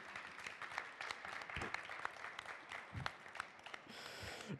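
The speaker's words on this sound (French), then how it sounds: "Applaudissements." An audience at a live comic-drawing event claps steadily in a room, a dense patter of many hands at moderate, even loudness for several seconds with a few sharper claps standing out.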